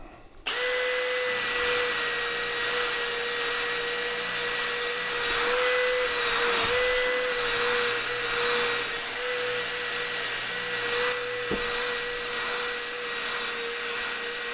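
A power drill fitted with a sanding disc grinds across a birch plank with a steady, loud high whine, running continuously for many seconds with slight dips in load.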